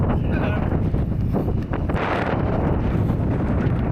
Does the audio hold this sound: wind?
yes